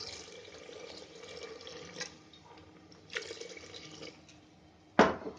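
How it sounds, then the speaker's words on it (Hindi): Half a litre of water is poured into a pressure cooker holding tomatoes, garlic, ginger and salt for tomato soup. Soft, quiet splashing and trickling comes in a few bursts, ending with a sharp metallic knock. "अब इसमें मैं 1/2 लीटर पानी डालूंगी।"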